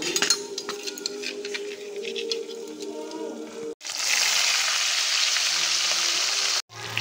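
Puthi (pool barb) fish frying in a pan, a steady close sizzle with clinks of utensils against cookware, the hiss swelling louder in the latter half and briefly cutting out.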